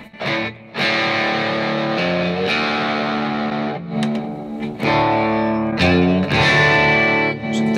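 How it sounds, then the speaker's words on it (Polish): An electric guitar plays through a Fender Mustang GT40 amplifier with the overdrive bypassed, sustained chords ringing with effects coloring and reverb, loud and continuous with no talk. "po wyłączeniu przesteru, czyli po zbypassowaniu tego przesteru tutaj"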